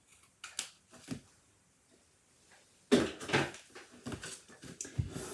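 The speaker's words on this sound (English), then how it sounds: "I'm just going to bring in my old scissors and trim that piece off" Old scissors trim a piece of cardstock in a few quiet, sharp snips, then a quicker cluster of cuts and rustles, close by with no talking.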